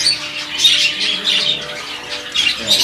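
Budgies and zebra finches in a caged aviary setup call continuously, a dense, loud chatter of overlapping squawks and chirps with no talking.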